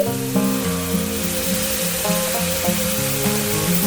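Onion paste frying in oil with salt added, a continuous, fairly loud sizzling hiss close by, with music playing underneath throughout.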